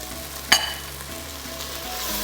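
Kaffir lime leaves hit a hot pan of Khmer chicken red curry and sizzle with a steady close fry, a sharp crackling burst early on, then continuous spitting and stirring.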